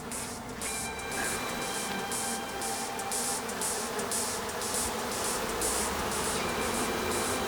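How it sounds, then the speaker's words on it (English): A dense, continuous buzzing of many bees, loud and steady throughout with no voices. "Once a few bees are in position, then they are quite attracted to the other bees."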